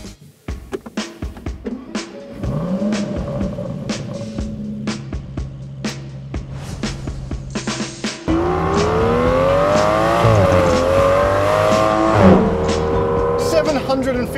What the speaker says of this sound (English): Power, twin turbocharged V12.